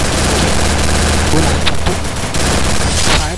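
Rapid video game gunfire with MP40-style automatic bursts and cover fire, loud and dense with overlapping shots and booms, a voice occasionally audible beneath.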